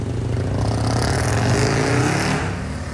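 A Ferrari 812 GTS supercar engine roars past on a Monaco street, a loud, rich, continuous tone that swells and then eases slightly as it moves away.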